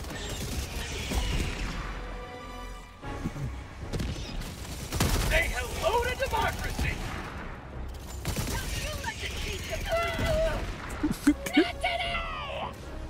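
Sentry gun firing in Helldivers 2, heard as rapid mechanical bursts and clatter mixed with game noise, running under near-constant talking voices throughout.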